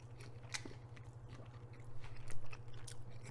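Close, crisp crunching bites and chewing of crusty blackened salmon skin, several distinct crunches in quick succession over a faint steady hum.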